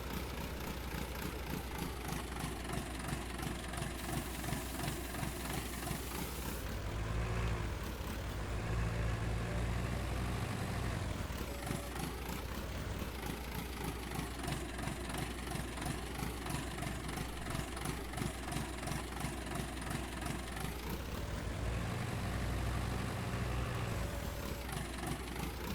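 Tractor engine in Farming Simulator 19 runs steadily for the whole stretch, a loud, continuous low rumble with a throbbing idle-like pulse, rising in revs and load twice as the machine works dirt.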